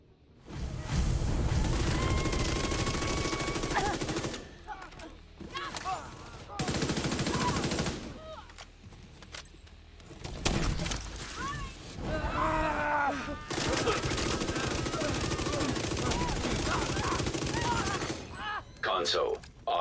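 Rapid video game gunfire in bursts of automatic shots and booms, loud and close, broken by short pauses, with occasional voices over the action.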